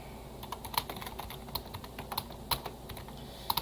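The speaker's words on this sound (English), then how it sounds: "The only bad thing about this keyboard is that the space bar gets jammed." Steady typing on a computer keyboard with a space bar that tends to jam, a close, quiet run of irregular key clicks with a few sharper, louder strikes scattered throughout.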